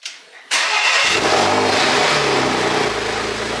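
A Porsche Macan engine cranks and catches after a short lead-in, then holds a loud, steady high rev before settling toward idle, close by.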